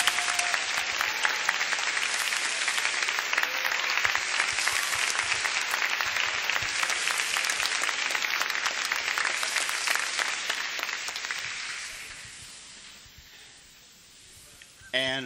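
An audience at a 1992 Willamette University freshman glee event applauds the judges with sustained, dense clapping that swells and then fades away near the end.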